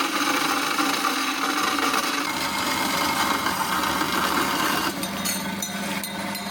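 Stainless steel exhaust pipe being cut with a saw, a continuous rough grinding rasp at close range that shifts tone near the end as the cut finishes.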